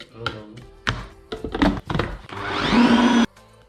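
A blender whirs in short bursts with knocks between, then runs in one longer, loud whirring stretch before cutting off.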